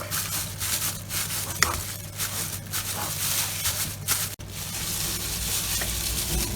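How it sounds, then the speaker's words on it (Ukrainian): Homemade cottage cheese being mashed in a bowl for syrnyky, a steady soft scraping and squishing texture that runs continuously, close and fairly loud, with one brief knock partway through. "розтираємо сир ну, майже до однорідної маси"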